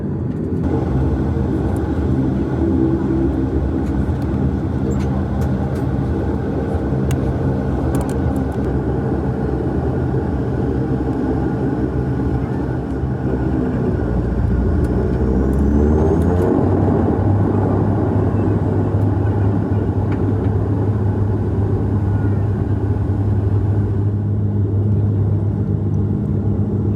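Bombardier Dash 8 Q400 airliner climbing away from Toronto Island after takeoff, heard from the cabin as a loud, steady turboprop drone and rumble that shifts to a deeper sustained tone midway.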